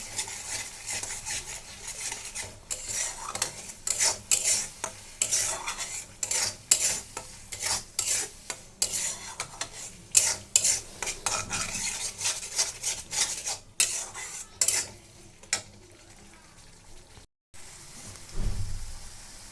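A spoon stirs and scrapes spiced meat with cumin, coriander and meat masala in a cooking pan, giving repeated rhythmic scraping strokes over a soft sizzle, with a short pause before the final stirs.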